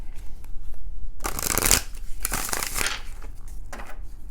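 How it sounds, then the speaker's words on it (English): Tarot clarifier cards being shuffled by hand, a few bursts of papery riffling and sliding, close and fairly loud, with soft pauses between. "Shuffling the clarifiers"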